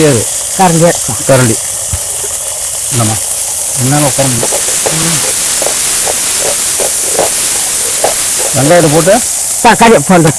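Onions and tomatoes fry in a pan for a village-style fish curry, making a constant hissing sizzle underneath frequent conversational voices nearby.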